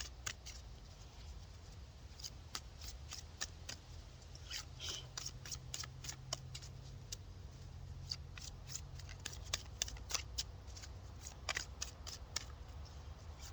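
Large oracle cards are shuffled by hand, a soft steady riffle of many quick card flicks, close and quiet throughout.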